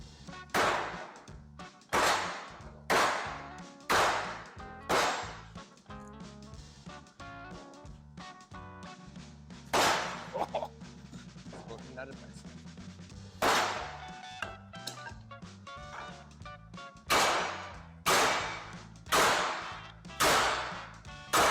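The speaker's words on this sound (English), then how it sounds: "I kind of want to use the big hammer." Big hammer striking metal while building a homemade bead roller, loud sharp clanging blows in bursts of four or five rapid hits separated by quieter stretches of shop noise, close with no talk.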